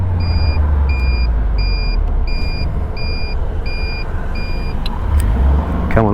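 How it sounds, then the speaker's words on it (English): Repeated paired warning bleeps sound at a steady rhythm inside a Suzuki-powered Caterham Seven 170 while driving, over loud engine and road rumble, ending in a rising engine rev. "That is a very annoying bleeping noise."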